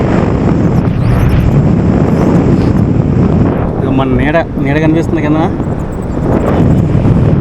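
Strong wind roars loudly and steadily during a paragliding flight over Manali, buffeting the microphone with a dense rushing noise while someone speaks briefly in the middle.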